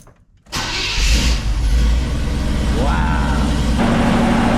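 A Chevrolet squarebody pickup truck engine cranks briefly and then catches, settling into a loud, steady idle. Voices speak over the running engine.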